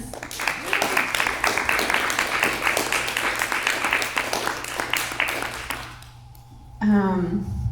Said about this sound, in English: just really want to just give another round of applause for all the work that he does